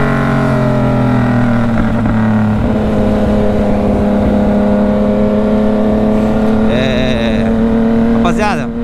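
A Yamaha MT-09 motorcycle engine (2023) runs at a steady, loud idle with a constant drone throughout, rising briefly near the end as if revved slightly, with no talking over it.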